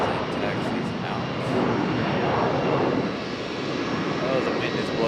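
An airliner taxis at Charlotte Douglas airport, giving off a steady broad jet-engine roar at moderate distance that swells slightly partway through, while a person talks over it.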